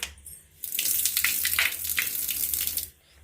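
A toothbrush is rinsed under a running tap, a close, steady gush of water lasting a couple of seconds that starts and stops abruptly against a quiet background.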